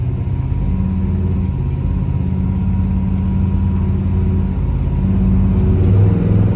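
A 1966 Chevy Caprice engine runs steadily at close range, a deep continuous rumble that swells slightly louder near the end.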